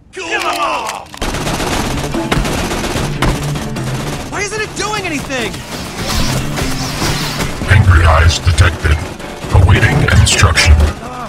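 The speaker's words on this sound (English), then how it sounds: "Please stop shooting, engaging target." Dense video-game gunfire and mechanical action from Tales from the Borderlands fill the whole stretch, loud and continuous, with characters' voices talking over the shooting throughout.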